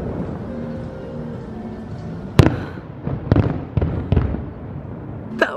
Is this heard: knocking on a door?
no